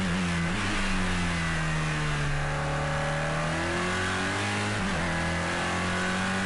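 Race car engine in Project Cars 2 at Silverstone, a continuous loud drone that rises and falls with throttle and shifts, heard from the cockpit with no other sounds over it.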